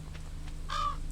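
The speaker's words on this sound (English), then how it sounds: "the crow took one of my crops" A crow caws in the farming video game Stardew Valley on a rainy day, one short harsh call rising over steady low background music and rain.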